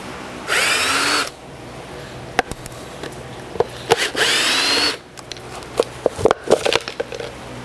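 A power drill whines in two short bursts while it backs screws out of a refractory form for an oil-fired foundry furnace. Between the bursts come scattered clicks and knocks of handling and a bit change.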